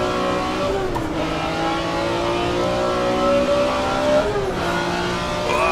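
A BMW sports car in the Assetto Corsa racing game at Willow Springs, its engine revving hard and steady with rising and falling pitch sweeps as it shifts, loud and close with no talking.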